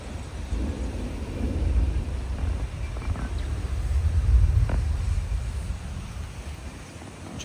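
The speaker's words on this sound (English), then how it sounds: "Scared of the thunder?" Thunder during a storm near Billy Goat Bluff, heard as a long, deep, rolling rumble that swells and fades over several seconds. No one speaks.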